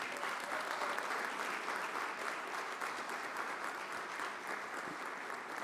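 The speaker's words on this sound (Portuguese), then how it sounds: "Uma salva de palmas para eles." An audience at a special council session breaks into steady, dense applause, a continuous wash of clapping hands that holds an even level throughout without fading.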